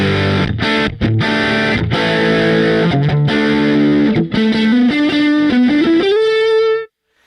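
Electric guitar through a maxed-out Marshall JTM amp preset on a computer setup, loud heavily distorted riffing with chugging chords, climbing to a single sustained note that rings out before cutting off.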